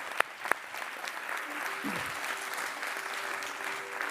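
An audience at a charity fund event applauds Sejal Desai with a soft, steady round of clapping. A couple of sharp louder claps come at the start, and a faint voice murmurs beneath.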